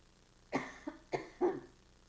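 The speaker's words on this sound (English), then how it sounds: "it's gonna take me a while to get rid of this cough" Several short coughs, close and fairly loud, four bursts in quick succession with brief pauses, no talking.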